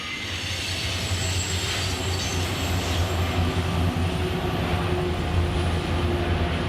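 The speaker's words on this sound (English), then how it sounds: "This loaded coal train from Wyoming is headed for Alabama Power's James Miller Power Plant just outside Birmingham" A loaded BNSF unit coal train from Wyoming rolls steadily past, its deep, continuous rumble of wheels and cars loud and close, with no talk over it.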